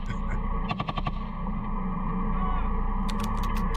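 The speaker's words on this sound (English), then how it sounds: "We now see them firing the coaxial machine gun." A tank's coaxial machine gun fires a short rapid burst of about half a dozen cracking shots, then a second quick burst follows, over a constant loud rumbling background.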